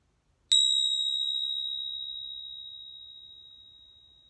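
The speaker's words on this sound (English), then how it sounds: "You can also use tingsha bells, which I love because vibrationally it will clear the energy off your board." A single bright ring of tingsha bells, struck once and left to sustain, its clear metallic tone decaying slowly over several seconds in an otherwise quiet room.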